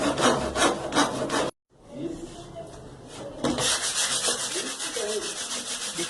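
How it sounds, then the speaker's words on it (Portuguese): Wood being sanded by hand with number 80 sandpaper, a loud close rasping rub in steady back-and-forth strokes that stops abruptly for a moment, then resumes more softly before building again. "Depois de acertado o corte, aí foi hora de lixar a madeira. Eu dei uma lixada de leve e usei uma lixa número 80."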